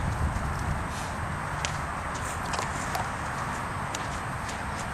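Steady hoofbeats of a horse walking at an unhurried pace at a horsemanship event, soft and slightly distant under a wash of outdoor background noise.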